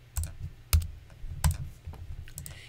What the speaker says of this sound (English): I'm just going to type in index right here